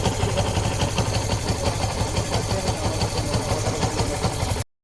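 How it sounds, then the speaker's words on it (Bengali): A Yamaha FZS version 3 motorcycle engine with a fault runs close by, making a steady low rumble with a rapid knocking rhythm. It cuts off abruptly near the end. "ইঞ্জিন স্টার্ট দেওয়ার পরেই ইঞ্জিনের মধ্যে ঢকর ঢকর ঢকর ঢকর সাউন্ড হয়"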